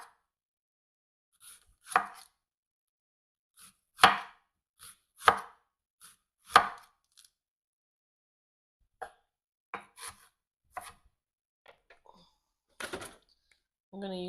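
Onions chopped with a knife on a board, a series of sharp, separate cuts spaced unevenly and heard close and clear against a quiet background, with faint talk in places.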